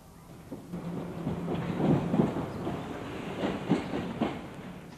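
Trains rumble past a railway flyover near Bushey in 1966, a steady rolling roar with rhythmic wheel clatter swelling and fading, fairly close, with no voices.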